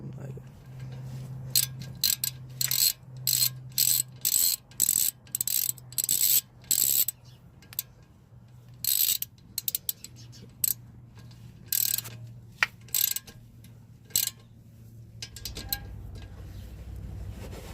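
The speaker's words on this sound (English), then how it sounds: "I'll just torque everything to the right spec." A torque wrench ratchets while brake caliper bolts are tightened. It comes through as repeated short bursts of clicking in an irregular rhythm, close and moderately loud, with a low steady hum underneath.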